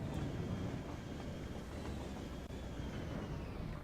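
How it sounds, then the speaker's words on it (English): In the city-building game Cities Skylines, a train arriving gives a steady, dense rumble of rolling wheels and carriages, loud and continuous for several seconds with no speech over it. "So, and here the next train arrives."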